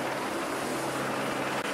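Aircraft engine drone, most likely a helicopter flying over Boudhanath Stupa during the Buddha Jayanti festival as it drops rose and lotus petal offerings, holding a steady, fairly loud rumbling wash from start to finish with no talk.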